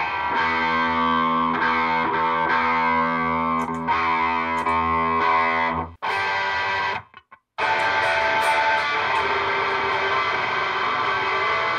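Electric guitar played through distortion with the gain raised, chasing a classic rock tone: loud, sustained, fuzzy chords that ring, cut off briefly, then crash back in thick and saturated.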